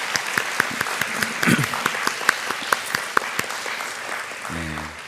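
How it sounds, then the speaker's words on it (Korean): A young adults' church service congregation claps to encourage a testimony giver and a rural volunteer team, with steady applause and sharp individual claps standing out before a voice begins. "우리 다시 한번 격려의 박수 부탁드립니다"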